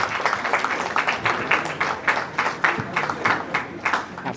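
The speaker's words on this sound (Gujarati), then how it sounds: "તાળીઓ તાળીઓ." Audience applause at a Gujarati comedy stage show, a steady burst of many hands clapping together in a fairly close, even rhythm throughout.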